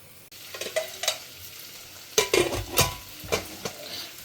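Mustard seeds, urad dal, chana dal, dried red chillies and chopped chow chow fry in a wok, with quiet sizzling broken by several sharp stirring scrapes and crackling bursts that come in uneven clusters.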